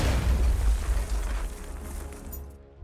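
An explosive weapon goes off in Batman: Arkham Knight, a heavy close boom with deep rumbling that rolls on and slowly decays over a few seconds.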